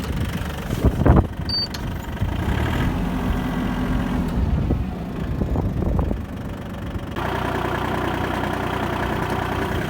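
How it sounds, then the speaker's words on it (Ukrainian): A Japanese mini tractor's engine runs steadily at a loud, close idle-like drone while its wheels slip in place, with a few knocks and clunks over the continuous rumble. "буксував трактор"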